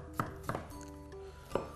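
Food being chopped finely with a kitchen knife on a board while making a breakfast dish with eggs, with three crisp, separate knife strikes over a steady low background hum.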